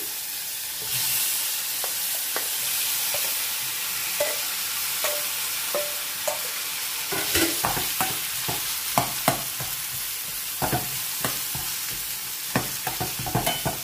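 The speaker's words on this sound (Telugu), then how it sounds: "ఇప్పుడు ఇందులో మనం వడకట్టి ఉంచుకున్న ఈ కూర ఉంది కదా, ఇది వేసేద్దాము." Strained elephant yam and Malabar spinach curry goes into a pan with curry leaves, sizzling under a soft steady hiss while a ladle scrapes and knocks against the pan in irregular clinks, close by and without speech.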